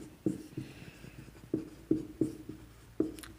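Marker or chalk strokes on a board during a Class 11 chemistry lesson, about six distinct taps and scrapes in an uneven rhythm, close and fairly quiet, with no talking.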